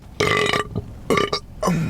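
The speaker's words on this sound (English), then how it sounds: "that was a spicy burp" Three loud, close burps come in quick succession after drinking root beer, each rough and drawn out.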